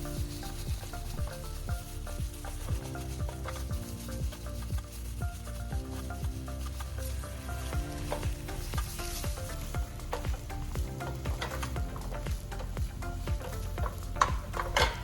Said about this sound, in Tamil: இந்த உருளைக்கிழங்கு எல்லாம் வெங்காயத்தோடையும் தக்காளியோடையும் நல்லா சேர்கிற அளவுக்கு நல்லா மசிச்சு விடணும்